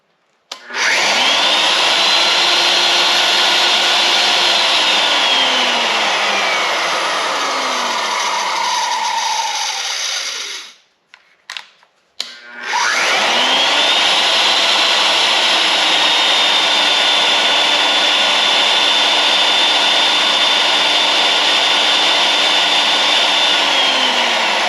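Two old Porter-Cable wood routers run in turn, each a loud, steady high-pitched motor whine that spins up, holds for about ten seconds and winds down, with a short gap of clicks between them.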